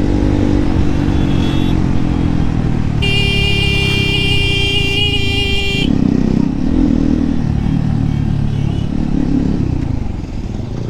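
Loud, close Honda Hornet motorcycle engine running steadily, with a rough rumble and a brief high whine partway through.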